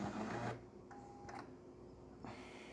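A Jura E6 coffee machine brews after its filter and brew unit were cleaned, giving a steady mechanical whir and hum close by, with a short higher tone partway through and a shift in the motor sound near the end.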